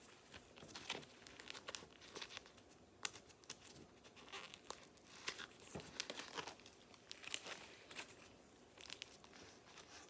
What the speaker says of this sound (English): I can peel off this backing.